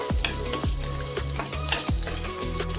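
Green chillies fry in oil in a pan, giving a continuous close sizzle with several soft knocks and scrapes as they are stirred, and no voices.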